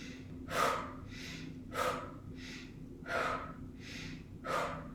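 Rescue breathing drawn in through the nose and pushed out through the mouth, four sharp close breaths at an even rhythm, each followed by a softer exhale, with no talking.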